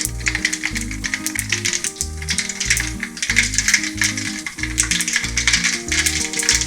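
Mustard seeds splutter and pop in hot oil for a fish curry, a dense, rapid crackling with sharp bursts of popping, loud and close, with no talking.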